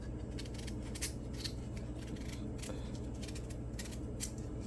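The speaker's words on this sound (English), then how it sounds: "we just go around with the knife just like how you'd peel orange" A knife peeling a turnip in a kitchen while making cow foot soup, a close, quiet, steady scraping with repeated short rasping strokes.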